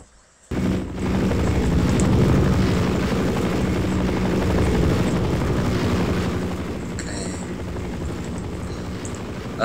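Helicopter in the video game Half-Life, a loud, steady rotor and engine roar that starts abruptly after a brief quiet moment and continues throughout, easing slightly toward the end.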